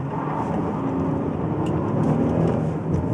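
2015 Chevrolet Impala sedan accelerating, a loud, continuous engine roar with low rumble and rising whir heard close, steady for a few seconds without speech.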